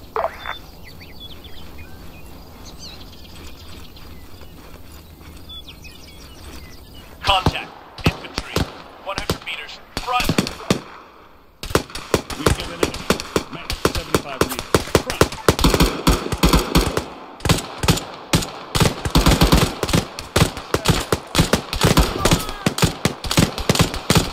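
Gunfire erupts during a Philippine Army detachment raid, quiet at first, then sharp outdoor shots and rapid bursts that build into dense, sustained firing, loud and close.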